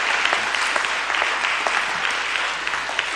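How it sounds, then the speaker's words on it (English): A conference audience breaks into a round of applause, dense steady clapping from a large crowd filling the hall and holding at an even level throughout. "Give them a round of applause"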